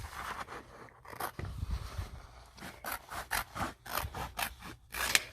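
Scissors cutting out a printed paper label, a run of short crisp snips and rustling paper strokes close by, growing busier toward the end, with no talk.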